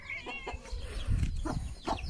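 A village chicken clucks in short, close bursts, several separate calls over a couple of seconds against a quiet rural background.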